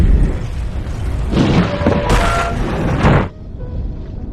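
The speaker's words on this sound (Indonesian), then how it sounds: "Saat orang tersebut hendak mengajar Kwan, tiba-tiba sebuah bom meledak di dekat mereka." A bomb blast in a Jackie Chan action film: a loud, sustained rumbling roar with bright crackling bursts layered over a heavy low background, cutting off abruptly into a quieter hum.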